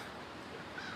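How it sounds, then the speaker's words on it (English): Several crows caw in a loose group somewhere outdoors near a bridge, their calls fairly faint and blended into steady background noise over a short stretch. "crows. You can hear them cawing"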